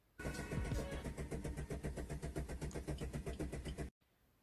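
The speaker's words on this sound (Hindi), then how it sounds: "तो क्रैंक तो हो रहा है," A Maruti Suzuki Swift engine cranks in a rapid, even rhythmic churn of the starter for several seconds without catching, loud and close, then cuts off abruptly.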